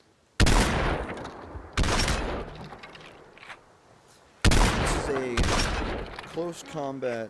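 Shots from a DT11 shotgun in the video game Population One boom out: three or four loud, sharp blasts spaced unevenly, each with a short decaying tail, followed by a voice talking.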